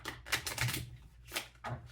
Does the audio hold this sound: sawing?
no